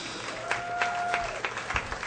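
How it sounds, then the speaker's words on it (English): Comedy show audience applauding, a short burst of scattered clapping with a few sharper individual claps, moderately near. "Give them a big round of applause."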